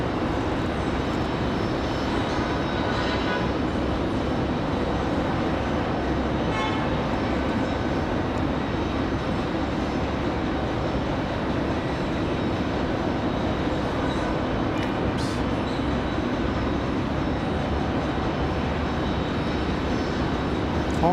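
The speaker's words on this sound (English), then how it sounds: "The Southwest landing over on the other side." Southwest airliner landing at Raleigh-Durham airport, a continuous broad jet rumble and roar heard from a distance across the field, steady throughout with no voices.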